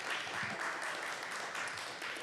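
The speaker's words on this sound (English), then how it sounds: "I love hearing applause in these chambers." Brief applause in city council chambers during a committee meeting, a soft, even patter of clapping from a small group that carries on without a break.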